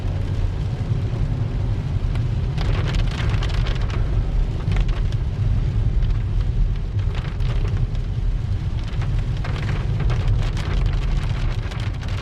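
Steady, heavy rain pours down continuously near a newly formed stream, a dense hiss of drops on surfaces with a deep rumbling undertone and no voices.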